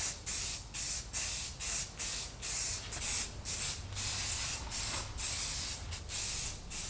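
A finish coat is sprayed onto wood in a woodworking shop: short bursts of hissing spray repeat in a quick, uneven rhythm, each burst cutting off sharply, close and clear with no voices.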